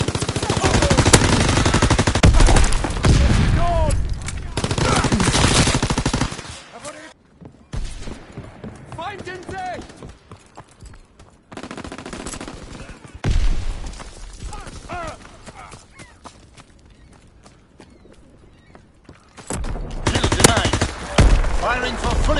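Call of Duty WWII gameplay with loud bursts of machine-gun and rifle fire in dense stretches, broken by quieter gaps where game voices and scattered shots are heard.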